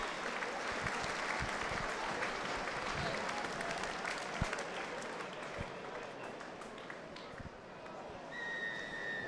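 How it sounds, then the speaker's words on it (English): Stadium crowd applauding a rugby league player at his testimonial match between Warrington and Salford, a broad sustained wash of clapping and cheering from a large crowd across the whole stretch, with a referee's whistle near the end. "A very much deserved round of applause for a great servant of our game, Mike Cooper."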